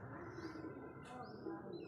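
Domestic pigeons coo softly and low in a rooftop loft, a faint murmuring call under a dull ambient rumble, with a brief higher chirp in the middle.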